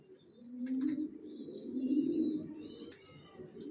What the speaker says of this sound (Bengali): ভিউয়ার্স দেখতে পাচ্ছেন এখানে এক জোড়া অ্যাডাল কবুতর দেখাচ্ছি